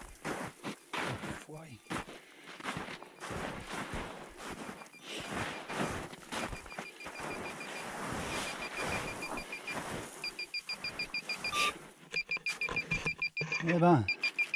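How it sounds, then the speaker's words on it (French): Repeated short electronic beeps sound in bursts beneath steady talking and footsteps, growing more frequent near the end. "J'entends qu'il bip par là-bas en dessous."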